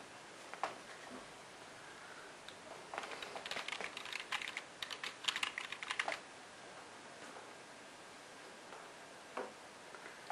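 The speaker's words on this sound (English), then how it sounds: "Alright, so just type that in." Soft clicks of a computer keyboard come in short bursts, with a dense flurry in the middle and scattered single taps before and after, fairly quiet and close, with no voices.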